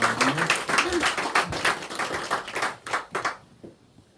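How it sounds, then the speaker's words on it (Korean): A church congregation applauds during a Sunday morning worship service, with a dense patter of clapping that rolls on for about three seconds and then tapers off into quiet, mixed with a few voices. "우리 하나님께 영광의 박수 올려드리겠습니다"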